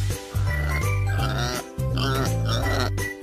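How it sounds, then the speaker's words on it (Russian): A cartoon pig in a kids' wooden puzzle game for Android gives three loud, close oinking grunts in quick succession, each with a short pause, with no other sound. "Свинья."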